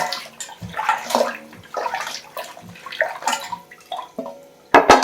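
Raw mutton pieces are rinsed by hand in water in a pot, making close, irregular splashing and sloshing with occasional clunks and no talk.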